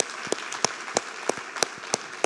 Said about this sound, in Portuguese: Dá uma salva de palmas para esses líderes.